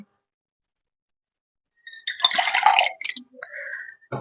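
Someone drinks water during a biology lesson demonstration: after near silence comes a close burst of gulping and sloshing, followed by a few small wet clinks and splashes.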